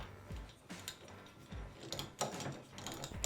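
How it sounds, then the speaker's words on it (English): A knob turns to join sections of a JEBUTU overhead camera desk mount, giving close ratcheting clicks and mechanical ticks in short uneven bursts with no speech. "Each section goes together and comes apart easily with just a few turns of a knob."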